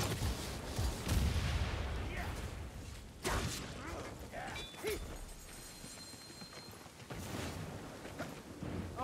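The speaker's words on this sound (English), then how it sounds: "It's a rattling gun." Skaven ratling gun firing in the Warhammer Vermintide video game amid a dense, noisy battle mix of rumbling blasts and mechanical clatter, with sharp bursts standing out over continuous game noise.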